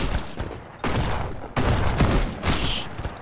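Enemy gunfire in the survival game Mist Survival, loud bursts of shots in three or four heavy clusters with short gaps between them, close and harsh, with no talking.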